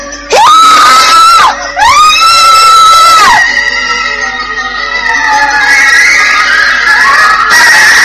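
A man screams loudly and desperately while struggling to break free in a dramatized audio story, with two long, piercing cries followed by strained, wavering shouting.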